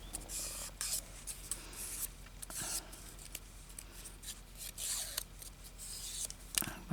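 Scissors snip paper for a junk journal in a quiet indoor setting, giving a series of short, crisp cuts close by at an irregular pace.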